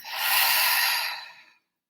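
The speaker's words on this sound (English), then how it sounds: "And a deep exhale through the mouth." A deep exhale through the mouth during a yoga stretch, a single long breathy rush that swells and then fades over about a second and a half before silence.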